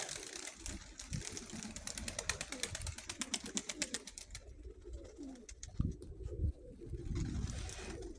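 Pigeons coo repeatedly close by, soft throaty calls overlapping against a steady outdoor background, with some rustling and a fluttery rhythmic patter.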